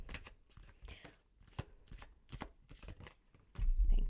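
Tarot cards being shuffled and drawn, soft papery riffles and light flicks close by, ending in a brief louder rustle.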